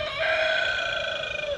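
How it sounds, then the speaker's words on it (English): A rooster crows once on a small homestead farm, a loud, close, drawn-out and slightly odd-sounding call heard alone. "That was a rooster."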